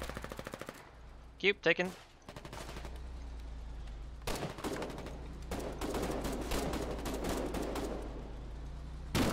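Automatic and rifle gunfire crackles in the online war game Foxhole, with sharp bursts early and dense rattling volleys through the later half, while a player speaks briefly over the fighting.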